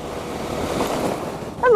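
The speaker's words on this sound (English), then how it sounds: "A little waterfall again." Small roadside waterfall along a mountain road in Ecuador, a steady broadband rush of falling water close by, with a brief louder burst near the end.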